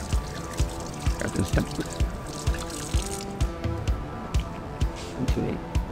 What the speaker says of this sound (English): I'm degreasing the blade so that I don't get contaminants in my acid. And I'll rinse it off.